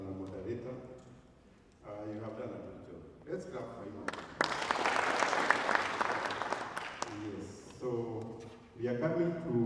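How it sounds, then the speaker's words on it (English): Applause for a moderator at an agricultural extension symposium breaks out in the middle of the clip, a dense burst of clapping lasting several seconds, with someone talking before it and again after it. "Let's clap for him."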